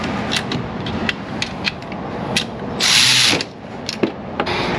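A ratchet tightening a bolt in an auto repair shop, its rapid pawl clicks coming in short bursts amid workshop clatter, with a louder hiss-like burst near the middle.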